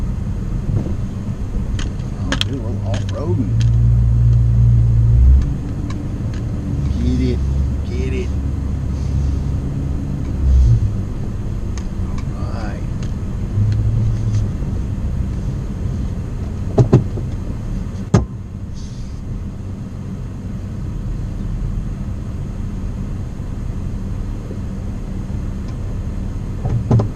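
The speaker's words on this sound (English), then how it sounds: "I'll do a little off-roading." A vehicle drives off-road with a loud, steady low engine rumble, and creaks and knocks from the body pass over uneven ground.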